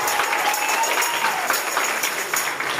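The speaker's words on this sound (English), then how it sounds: "give everybody that has performed a great big round of applause" An audience at a spring music showcase gives a round of applause for the performers, steady, moderately close clapping that holds evenly and tapers slightly near the end.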